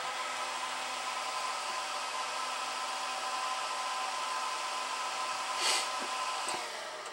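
A fan in a solar hot air heater box runs with a steady, even airy whoosh and faint hum, alone and moderately loud, with a brief brighter burst near the end.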